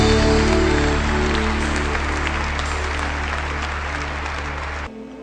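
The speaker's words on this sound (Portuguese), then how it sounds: "E podemos aplaudir o nosso Senhor mais uma vez." A church congregation at Mass claps steadily and loudly, sustained applause filling the room before cutting off abruptly near the end.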